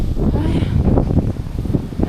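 Gusty wind roars and buffets the microphone on an autumn kayak expedition through the Baltic states, a steady, loud, low rumble with rustling surges and no clear voices.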